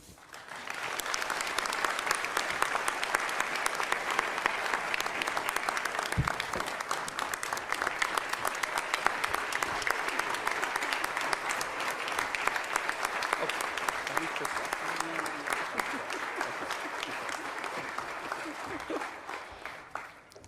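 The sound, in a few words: audience applause for Dr. Namuo at a presidential investiture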